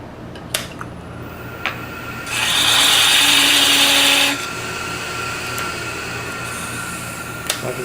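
A ring box turned on a wood lathe, with a single loud burst of cutting lasting about two seconds, standing out over a steady low machine hum and a few sharp taps.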